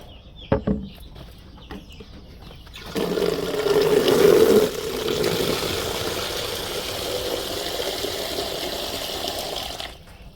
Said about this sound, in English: So I'm going to add more water to this.